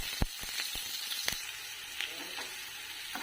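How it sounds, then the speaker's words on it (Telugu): Onions and cumin seeds fry in hot oil in a pan, a soft steady sizzle broken by several sharp pops and stirring taps, close but fairly quiet. "జీలకర్ర వేగిన తర్వాత సన్నగా కట్ చేసుకున్న ఆనియన్స్ వేసుకోవాలి."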